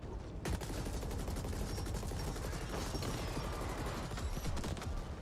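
Continuous rapid rifle fire from the cyberpunk shooter The Ascent, a steady rattling stream of shots layered with mechanical clatter and game ambience, moderately quiet and sustained throughout.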